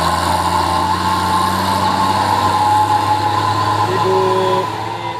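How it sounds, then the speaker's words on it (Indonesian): A slow dump truck loaded with sand labors up the steep Bukit Kodok hill, its engine a loud, steady low drone with a whining tone, easing slightly near the end. "Ada dam truk bosku yang sangat slow, yang muatan pasir."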